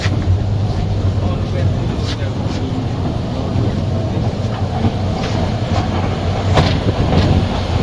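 Steady loud rumble of a moving train heard from inside a carriage, with faint rhythmic clicks and muffled voices blending into the continuous noise.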